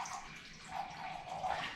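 Vinegar poured from a container into a bowl or measuring cup, a short close liquid splashing and trickling stream with gurgling swells, heard alone.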